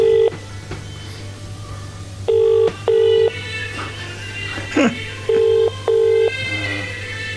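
A telephone dials out to call a wife, pairs of beeping tones sounding in two short bursts over a low steady hum, with a faint rustle between them.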